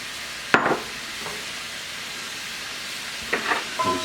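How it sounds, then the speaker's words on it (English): Peppers and mushrooms hit hot oil and garlic in a wok, giving a sharp sizzle burst followed by scraping stir sounds, with a second round of tossing and sizzling near the end; close and moderately loud, no talk. "We'll just start stir frying this up"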